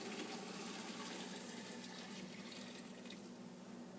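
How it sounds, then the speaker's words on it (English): Boiling water mixed with alum is poured over pickles for old-fashioned sweet pickles, a steady gushing splash of liquid running continuously and fairly quiet, with no talk. "And we'll carefully pour that over the pickles"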